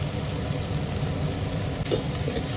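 A dense, loud sizzle rises from a tempering of cumin, mustard seeds, garlic, curry leaves and tomato frying in hot oil for sambar, crackling continuously up close.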